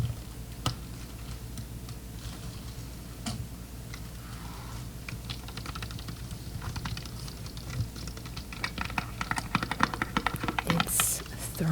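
Plastic wrapping on a giant three-pound chocolate bar is cut close up in a quiet ASMR setting, giving a steady stream of soft crinkly ticks and small scratches that grow busier toward the end.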